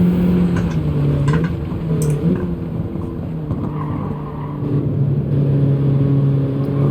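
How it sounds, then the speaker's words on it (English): A racing car in Gran Turismo 7 at Deep Forest Raceway drones loudly and steadily at high revs, with tyre squeal and a few sharp exhaust pops breaking through the continuous engine roar. "A little bit of pop on the exhaust"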